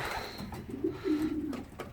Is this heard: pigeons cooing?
yes